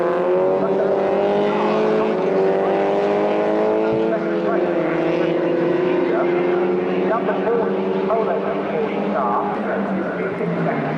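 Super Coupe Cup race cars lap a circuit, their engines droning loudly and steadily with shifting pitch as they pass, while a commentator talks over the racing noise.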